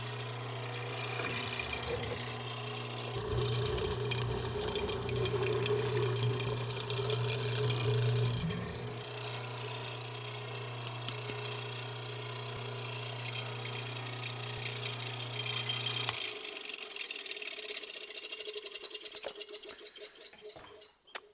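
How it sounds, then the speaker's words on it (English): A mortiser cuts a mortise in wood, a steady mechanical motor drone with chattering, scraping bites into the timber that later drops to quieter scraping. "We're going to probably use the mortiser"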